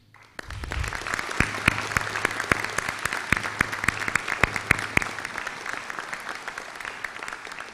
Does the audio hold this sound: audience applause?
yes